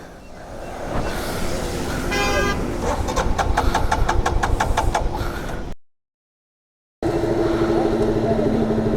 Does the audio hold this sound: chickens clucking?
no